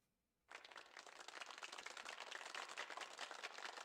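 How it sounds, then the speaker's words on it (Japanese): An audience of hospital patients in Nurse Love Syndrome bursts into applause before a concert: a crisp, steady patter of many clapping hands that starts suddenly after a moment of near silence and holds at an even level. "はい、拍手！"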